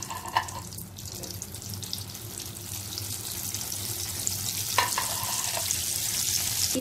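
Vegetable kebabs sizzle and fry in hot oil in a kadhai, a steady close crackle with a few louder clinks and stirring knocks.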